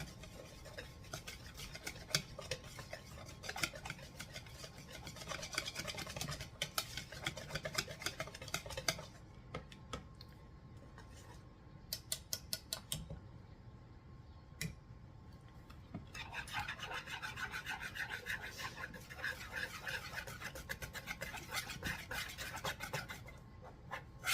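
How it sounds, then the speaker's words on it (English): Whisking a chicken pie batter in a bowl for an old-fashioned Southern chicken pie: steady scraping, rasping strokes against the bowl, continuous for long stretches with a brief quieter pause midway, no talking. "And we're going to give this a whisk."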